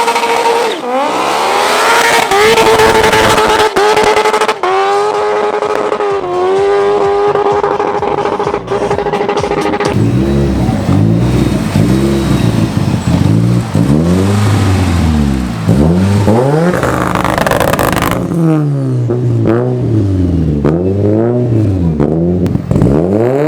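Skoda and Nissan GTR in a drag race at The Valley Run 2018, loud exhaust roaring through hard acceleration, with rising gear-by-gear sweeps, a brief drop between shifts and a second run of climbing revs near the end.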